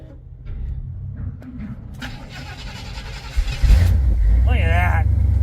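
A 1967 Chevrolet Nova with a 600 hp FiTech fuel injection system, unstarted for a week, cranks briefly and catches, then settles into a loud, steady, close-up idle rumble. People talk before it fires.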